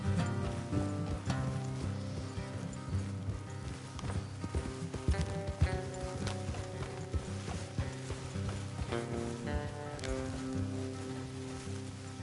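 Steady clip-clop of horse hooves in the video game Red Dead Redemption 2 plods along under layered music, with faint rustling and creaking mixed in.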